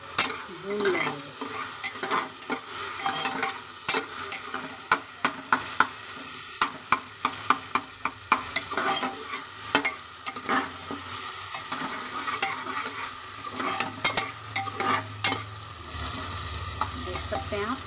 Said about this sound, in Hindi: तरीके से टमाटर को, अपने टमाटर को इसी के साथ भून लेंगे।